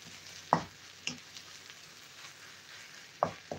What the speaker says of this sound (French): Il faut vraiment bien faire sauter.